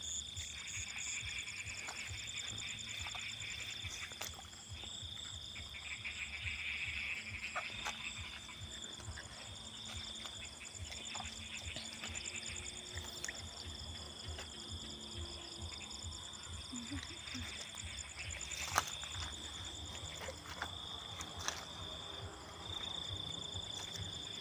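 A rice field at night hums with a steady, dense chorus of crickets and insects, with frogs croaking among them, and faint human voices drift low underneath.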